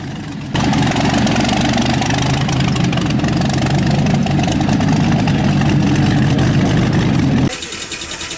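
A vintage Bentley Packard with a 42-liter, 1,500-horsepower aircraft engine runs with a loud, steady, dense roar that starts abruptly and holds for about seven seconds before dropping off.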